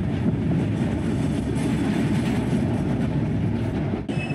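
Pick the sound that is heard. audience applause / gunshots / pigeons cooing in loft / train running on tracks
train running on tracks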